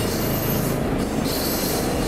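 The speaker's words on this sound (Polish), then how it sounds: "A przez peron drugi przejeżdża Skoda z cysternami." A Skoda locomotive hauls tank wagons through a platform at Jaworzno Szczakowa station, wheels squealing in a loud, continuous high screech over the heavy rumble of passing cars.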